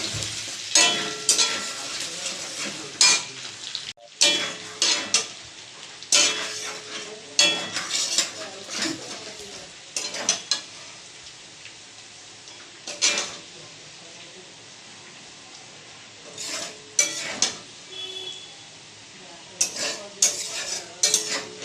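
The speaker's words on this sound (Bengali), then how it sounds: "ক্যাপসিকামগুলো, রসুন আর আদা কুচিটা দিয়ে দেব। একটু ভালো করে ভেজে নেব।" Capsicum, garlic and chopped ginger fry in a pan with a continuous sizzle. A metal spatula stirs and clinks against the pan in repeated bursts, loud and close, with a brief pause partway through.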